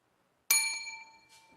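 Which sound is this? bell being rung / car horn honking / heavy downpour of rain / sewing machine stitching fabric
bell being rung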